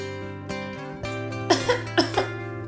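A child coughs several times in a short burst, three or four sharp, close coughs following an earlier held voiced tone.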